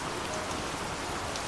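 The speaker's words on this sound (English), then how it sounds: "enjoy the sound of the rain, this sound of nature" Steady rain falls, a dense, even hiss of drops hitting surfaces, loud and unbroken with no voices.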